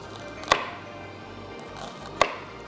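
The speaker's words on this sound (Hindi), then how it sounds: "हमें चॉप चाहिए प्याज" A knife chops a large onion on a cutting board, landing as two sharp, separate thuds well apart over a soft steady background, close, with no talk.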